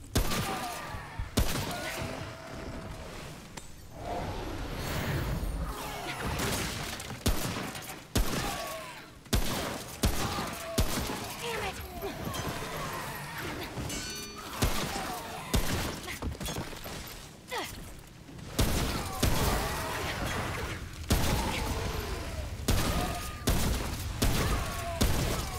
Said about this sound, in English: So I have a fire mod on right now with my assault rifle